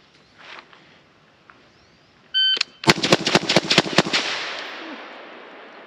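A Sig Sauer 716i .308 rifle fires a rapid bill drill: a timer beep, then six sharp, loud shots in a fast, even string lasting just over a second, followed by a fading outdoor echo and hiss.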